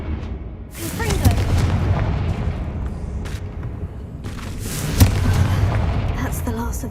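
A Confringo blasting spell cast in the game Hogwarts Legacy, heard as loud booming bursts over a rumbling battle backdrop, with a sharp impact near the end.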